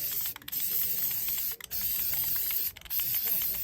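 Red Plasti Dip sprays from an aerosol can onto the small logos of car rims in a steady, close hiss that runs continuously, with three short breaks as the nozzle is released and pressed again.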